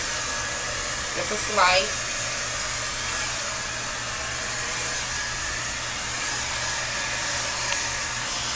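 An 1875-watt hair dryer blows steadily and loudly for the whole stretch as it is worked through hair, with a brief spoken phrase near the start.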